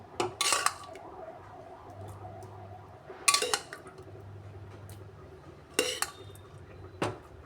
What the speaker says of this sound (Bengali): এগুলো আমি বাটিতে নামিয়ে নিচ্ছি